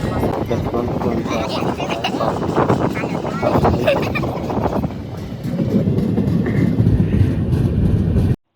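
Steady rumbling rattle of a moving train carriage fills the whole stretch, with voices talking over it and a brief dip in the noise midway.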